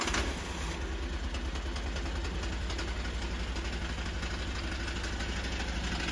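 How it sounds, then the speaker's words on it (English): A small single-cylinder engine on a remote-controlled MTSK1000 flail mower from China runs at a steady, rough idle with a constant low chugging and mechanical rattle, moderately loud and without any voices. "Now use this lever to start the engine."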